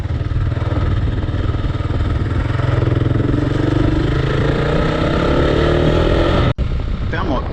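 A Kawasaki KLR 650 motorcycle is ridden on a dirt track, its single-cylinder engine droning loud and steady at low revs under heavy wind rush, with a rider speaking over the noise.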